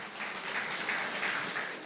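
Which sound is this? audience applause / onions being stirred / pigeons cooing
audience applause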